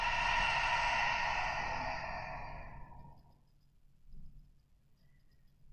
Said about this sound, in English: draw a really deep inhale through your nose. And then open mouth exhale